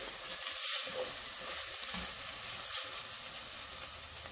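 Minced meat fries in a pan toward a golden color with a steady, close hissing sizzle and a few soft stirring touches, continuous with no voice.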